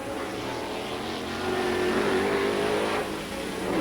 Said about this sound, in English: the Chevy-powered 5-liter Can-Am cars